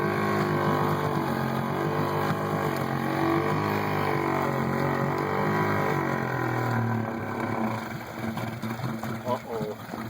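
A small boat motor on a pond drones steadily with a wavering pitch, then sputters and falters near the end as it runs out of gas, with people talking over it.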